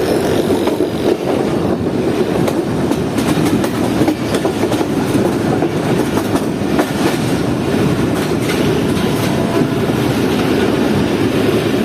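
A KCR 2 Down commuter train runs between stations in Karachi, a loud, steady rumble with rhythmic clickety-clack of wheels on rails and wind noise throughout, heard from on board.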